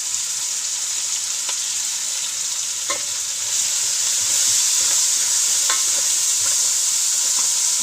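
Tomatoes drop into garlic-ginger paste, curry leaves and green chili frying for chicken curry, giving a loud, steady sizzling hiss close up, with occasional faint scrapes of stirring.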